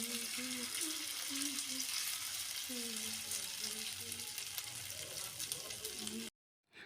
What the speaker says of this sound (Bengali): এরপরে ফ্রাই করা হবে।